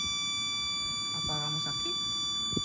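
A light-activated audible detector gives off a faint, steady high-pitched electronic buzz that holds unbroken throughout, while a voice murmurs briefly underneath.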